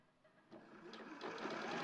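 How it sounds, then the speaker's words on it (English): A sewing machine stitches a sleeve with a temporary stitch, a faint whirring rattle that starts quietly and builds into steady, continuous stitching over about two seconds. "if I go in with my temporary stitch, just to show you what the sleeve looks like when we stitch it all together"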